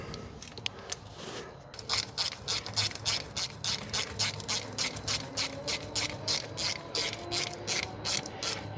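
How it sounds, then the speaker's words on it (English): Ratchet tightening a hose clamp on a Liebherr machine, a long run of quick, evenly spaced clicks close up, steady and alone with no talk. "I tend to find it's easier sometimes with a ratchet"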